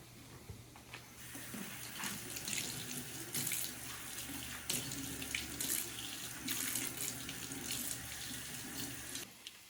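Tap water runs steadily into a sink while slices of bread are wetted under it for meatloaf paste, with faint splashing variations and no talk, fairly quiet and close.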